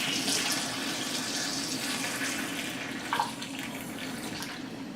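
Water runs steadily from a Kangen water machine tap nearby, a constant splashing hiss that carries on for several seconds without pause.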